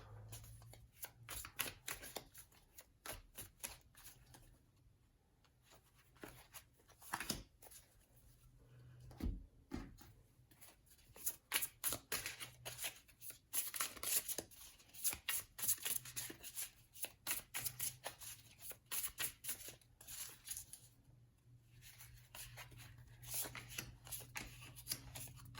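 Tarot cards are shuffled by hand at close range, giving repeated soft riffling and tapping bursts that stay quiet and fairly steady throughout.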